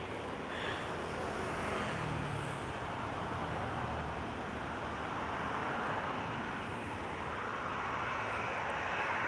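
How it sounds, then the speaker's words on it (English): A steady, loud roar of an airplane landing at Lisbon Airport, broad and continuous, with wind-like rushing throughout and no talking. "We have an inbound landing."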